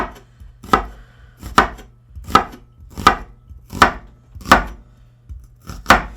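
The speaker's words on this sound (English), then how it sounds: "just like we did with the jalapenos, rough chop" A knife rough-chops an onion on a cutting board: eight sharp, evenly spaced chops, close and loud, with no talking.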